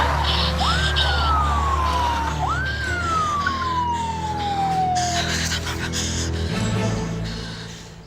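Police car siren wailing in rising-and-falling sweeps through city traffic, loud and close, with low engine rumble underneath and no speech.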